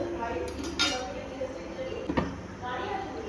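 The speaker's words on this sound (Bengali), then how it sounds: "কড়াইটা বসানো হয়েছে।" A kadai wok is set onto a lit gas stove with a few metallic clanks and clinks over a steady burner hiss, while a person talks nearby.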